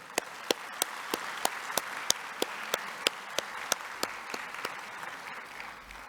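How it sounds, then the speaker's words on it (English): A conference audience applauds after a keynote address at an opening ceremony, steady dense clapping with a few sharper individual claps standing out evenly throughout, easing slightly near the end. "And please to show round of you big applause."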